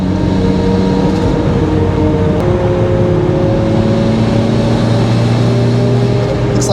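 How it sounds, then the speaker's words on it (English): Steady tire and road roar inside a Mazda Miata NB on the move, a constant low broadband rumble with a faint tonal hum rising and shifting slightly across the drive, loud and continuous with no talk. "The tires have kind of a funny noise to them."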